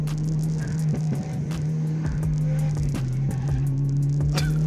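Cars street racing, with a steady engine drone and rumble broken by repeated rustles and short knocks, all close and continuous, with no talk.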